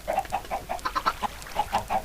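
Chickens cluck in a Minecraft-style egg farm, a quick run of short, bright clucks repeating steadily and close by, with no talk.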